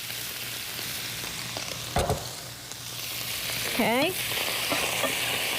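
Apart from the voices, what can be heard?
cauliflower rice frying in oil in a pan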